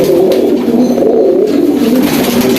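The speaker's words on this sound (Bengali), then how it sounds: "এখানেও বেশ কিছু কবুতর আছে" Pigeons, high-flying breed, kept in a rooftop loft after rain, cooing in a steady overlapping chorus, loud and close throughout with no talk.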